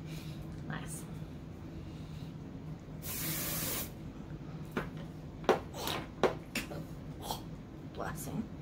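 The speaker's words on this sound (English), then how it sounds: "I need a chemical-free hairspray." Hairspray is sprayed onto hair in one sustained hiss of about a second, followed by soft handling noises and clicks, with a voice talking quietly in the background.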